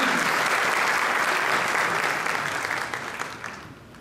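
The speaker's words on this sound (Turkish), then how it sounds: "Roketsan Genel Müdürü Sayın Murat İkinci'yi alkışlarınızla sahneye davet ediyoruz." Sustained applause from a conference audience welcoming Roketsan's general manager to the stage, dense and steady before fading toward the end.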